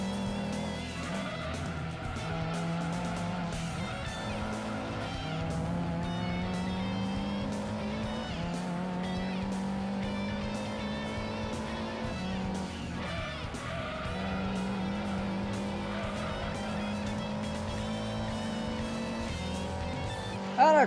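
Toyota Supra racing in Gran Turismo 2: a steady, continuous engine drone rises and falls in pitch through gear changes, with tire squeal and skidding at corners, loud and sustained across the whole stretch.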